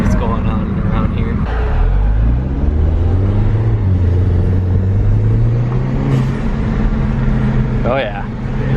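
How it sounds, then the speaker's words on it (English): A Mini Cooper S engine revving and pulling hard inside the cabin, with a rising turbocharger whine and whooshing bursts over a steady rumble, while people talk excitedly over it. "You hear turbo noises."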